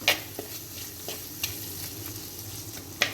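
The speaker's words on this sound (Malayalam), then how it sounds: "ചെറിയ സബോള, 2 പച്ചമുളക്, കുറച്ച് കറിവേപ്പിൻ്റെ ഇല അതുകൂടി ഇട്ട് കൊടുത്ത് ഒന്ന് വഴറ്റിയെടുക്കണം." Shallots, green chillies and curry leaves are sautéed in a pan for a pork and plantain dish, giving a soft steady sizzle broken by a few sharp spoon scrapes and taps, close by with no talk.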